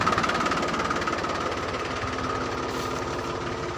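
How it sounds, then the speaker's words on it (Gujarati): A tractor's engine chugs close by with a rapid, even knocking pulse that holds steady throughout, at a farm field thick with deep mud. "આ ટ્રેક્ટર છે"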